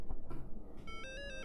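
A phone ringtone plays a repeating electronic melody of bright beeping tones over background room noise, close and moderately loud.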